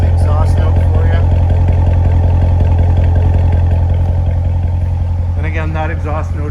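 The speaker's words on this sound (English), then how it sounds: "that exhaust note is adjustable, so that's in track mode right now, so it's a bit louder" A 2017 Chevrolet Corvette Stingray convertible with its adjustable exhaust in track mode idles with a loud, steady, deep rumble close by, with a brief higher burst near the end.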